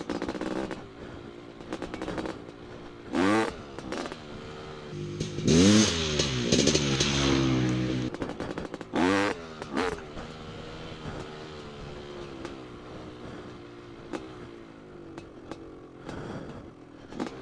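A dirt bike engine revs hard in repeated bursts during wheelies, each throttle blip rising and falling in pitch over a low idle, fairly near, no voices.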